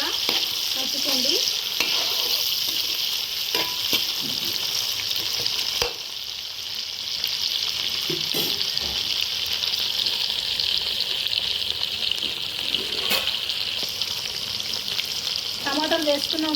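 Steady loud sizzling as fish curry with tomatoes fries in a pan, with occasional spoon scrapes and stirring clinks throughout.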